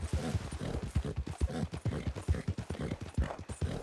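Horse hooves clip-clop in a steady, close, fairly loud rhythm in the video game Red Dead Redemption 2, with no talking over them.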